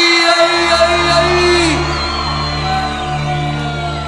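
Loud concert crowd shouting and cheering at a live show by a band, a dense sustained roar with whoops and bellows under a held musical tone, continuing steadily throughout.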